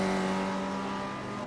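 Spec Racer Ford race cars at the Nürburgring Nordschleife, a steady buzzing engine drone with strong harmonic whine easing off slightly as the cars reach the braking zone, heard at a moderate distance.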